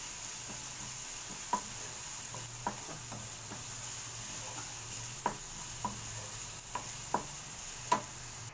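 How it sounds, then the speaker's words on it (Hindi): Frying and stirring in a pan while browning an ingredient lightly for a bhel salan dish, a steady soft sizzle with scattered light scrapes and taps of the spoon against the pan, close and without speech. "इसे हम हल्का सी लाइट ब्राउन करेंगे"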